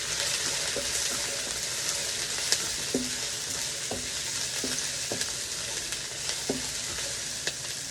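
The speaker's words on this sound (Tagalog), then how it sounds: "magigisa muna uli. Sabayin natin yung bawang at sibuyas" Garlic and onion sauté in a pan for a spaghetti sauce, a steady broadband sizzle with soft clicks and scrapes of stirring every second or so, close and continuous, with no talk.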